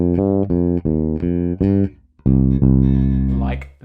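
A bass guitar plays the melodic part of a bass line: a run of sustained, distinct notes rising and falling, loud and close, played alone with no talking.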